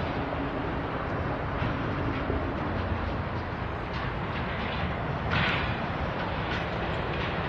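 Norfolk Southern NS 264 container train rolling through town at twilight, a continuous broad roar of wheels and railcars passing close by, steady throughout with faint squeals and clatter.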